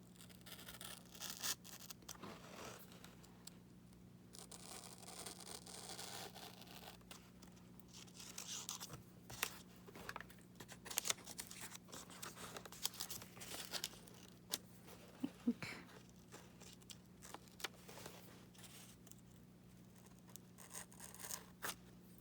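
Scissors cutting across paper while making steampunk specimen cards, quiet intermittent snips, rustles and scratchy handling sounds spread through a long stretch, faint and close, with no talk.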